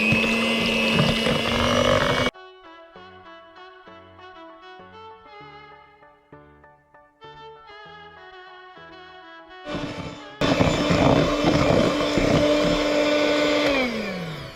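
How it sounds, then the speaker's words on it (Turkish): An electric mixer whips caramel, whirring loudly, stops for a stretch of tinkling melodic tones, then starts again with a steady high-pitched motor drone. "Evet başka bir kaba aktardığım karamelimi şimdi çırpıyorum."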